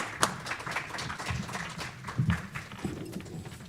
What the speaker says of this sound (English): And give a big hand of applause for the people.